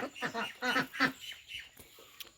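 Home-raised ducks about 110 days old, hatched in an incubator, quack in a quick run of nasal calls close by, then fall to softer scattered calls.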